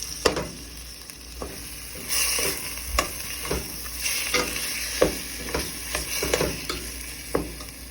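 Tinned tuna curry with tomato paste is stirred in a pan: a low sizzle under a steady rhythm of spoon scrapes and clinks, about one each second, close by.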